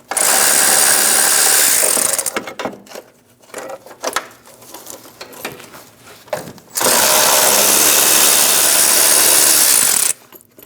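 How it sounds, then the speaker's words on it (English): A 10mm socket on a power driver removes two fog light bracket bolts on a 2001-2006 Chevrolet Silverado 2500 HD. Two long, loud whirring bursts are separated by a stretch of quieter clicks and handling noise. "Using a 10mm socket, we're going to reach in and we're going to remove our two bolts."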